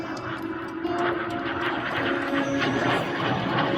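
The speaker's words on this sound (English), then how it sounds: "this is the tail slide of solo of Frecce Tricolori" A solo Frecce Tricolori jet performing a tail slide at the Cold Lake air show gives a steady, distant engine roar that swells slightly as it holds through the manoeuvre.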